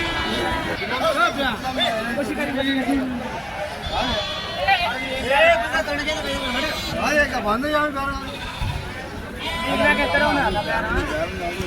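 Small sheep and rams crowd a Sunday livestock market at Chilpur Gutta, their repeated wavering bleats rising near and far through steady crowd chatter and talking voices for the whole stretch.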